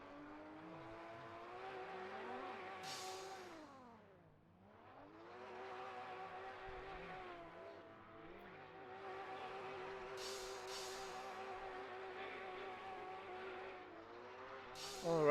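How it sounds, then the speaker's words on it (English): Race cars rev their engines in a racing video game at the Ahvenisto circuit, the engine notes rising and falling in repeated sweeps, with brief tire squeals. "I'm seeing some burnouts here"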